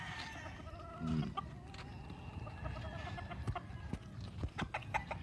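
Breeder hens on a large Philippine farm cluck in short scattered bursts over a busy background, moderately close, with a faint rooster-like call mixed in and no clear speech.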